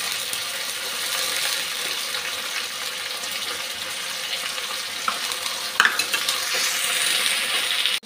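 Onions sizzle steadily in a pan for egg biryani, with a soft, even frying hiss and a few light stirring scrapes and clicks toward the end.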